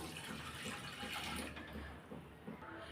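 Water pours steadily into a pot of washed moong dal (split yellow lentils) while making Chettinad ukkarai. It is a continuous, close gushing splash that eases off partway through, with no voices.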